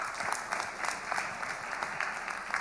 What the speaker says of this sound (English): So I think they deserve another round of applause.